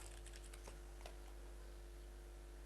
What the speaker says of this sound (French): Ici, je vais taper journal